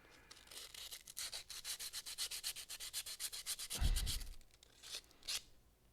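Rapid rhythmic scuffing of a car part surface, a run of quick, evenly spaced rasping strokes close by, followed by a thump and a few last scrapes, with no talking.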